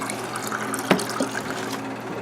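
Water gushing steadily from a rainwater tap into a bucket, a continuous close rushing flow with a small clunk partway through and no talking.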